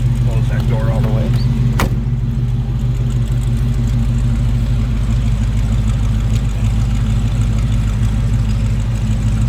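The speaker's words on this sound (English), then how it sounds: "Nice little rumble coming out of that" A 1937 Chevrolet Master Deluxe street rod with a V8 idles at the rear, a steady low rumble that is mild rather than loud and holds unbroken throughout, with a brief knock near the start.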